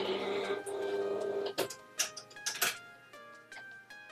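A craft cutting machine takes in a mat carrying shiny-side-down heat transfer vinyl, giving a steady mechanical whir and then a run of sharp clicks and clacks as the mat feeds, close and fairly quiet with no talk.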